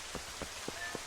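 Rain falls at Hyrule Castle in Zelda: Twilight Princess, a soft steady hiss punctuated by four evenly spaced low thuds, with no voices.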